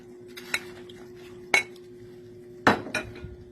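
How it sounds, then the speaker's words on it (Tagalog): A few sharp clanks of a utensil against a pot as cabbage goes into pork pochero, spaced apart over a low steady hum, with no voices. "Ngayon, ilalagay na natin itong repolyo."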